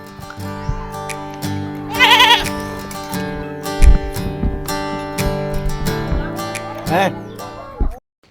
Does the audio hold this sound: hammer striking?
no